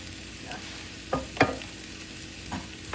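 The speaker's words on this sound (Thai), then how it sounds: "กระเทียมสับค่ะใส่ไปเลยนะคะ" A soft, steady sizzle of minced garlic frying in a hot pan, broken by a few sharp clinks and scrapes of stirring.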